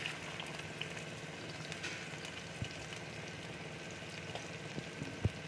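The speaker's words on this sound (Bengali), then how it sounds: "তেল দেখো গরম হয়ে গেছে, এবার আমি ক্যাপসিকাম দিয়ে দিচ্ছি।" Steady, low-level frying crackle from capsicum in hot oil with bay leaves, continuous and fairly faint, with a couple of brief louder pops near the end.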